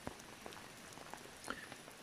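Rain falls at a campsite on the Pürenli plateau, faint scattered drops pattering on a nearby surface over a soft steady hiss.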